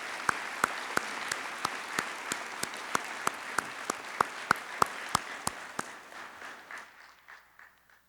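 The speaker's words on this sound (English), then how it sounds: "A round of applause and appreciation." A commencement ceremony audience applauds, with one sharp, regular clap standing out near the microphone at a steady beat over the crowd's wash, before the applause fades away.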